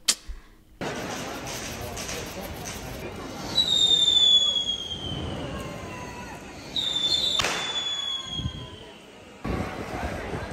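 Fireworks crackle and pop in the distance in Valencia, Spain, with a few whistling rockets rising and sharp bursts over a steady outdoor hum.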